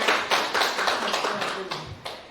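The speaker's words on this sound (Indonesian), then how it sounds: "Tepuk tangan untuk Bu Yuliana." A group claps for a teacher at an Indonesian school event: brisk, dense applause that holds steady and slowly fades over a couple of seconds.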